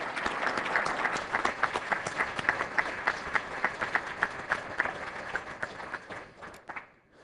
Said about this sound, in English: Could you please join me with a round of applause for Ken and Gordon?